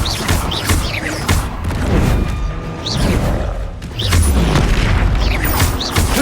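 Repeated Confringo fire spells burst in booming explosions during Hogwarts Legacy combat, loud and overlapping, with whooshing spell casts and clattering impacts between the blasts.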